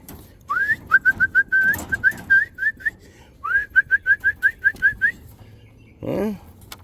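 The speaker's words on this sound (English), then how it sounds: "But I also, while I'm feeding, I'm whistling." A person whistles short, rising chirps in two quick runs of about a dozen notes each while hand feeding tippler pigeons, with a soft low coo or flutter near the end.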